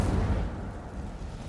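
A deep, rumbling whoosh of conjured flame from the Incendio spell in Hogwarts Legacy, loud at onset inside a cave and fading over a second and a half.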